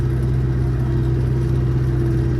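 Tractor engine pulling a plough through a field after rain, a loud close steady mid-pitched drone with constant low rumble and no voices.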